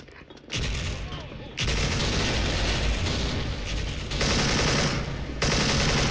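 An AK47 fires in Special Force, a Thai online shooter, in long, loud, sustained automatic bursts broken by brief pauses, close and dense throughout.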